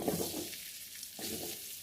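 Indian gooseberries dropped into hot oil with fried curry leaves, no water added, give a brief, close, steady sizzle with a soft stirring scrape, under two seconds long.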